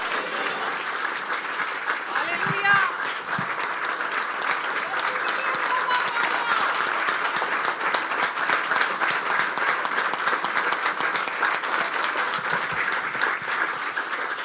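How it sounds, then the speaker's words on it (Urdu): Loud, sustained applause from a standing congregation at a Good Friday church service welcoming someone speaker, thick continuous clapping with crowd noise and some voices mixed in throughout. "ہم اپنے قدموں پہ کھڑے ہوں گے اور زوردار تالیوں میں خدا کی خادمہ کو یہاں پر اور خدا کے کلام کو زوردار تالیوں کے ساتھ ویلکم کریں گے"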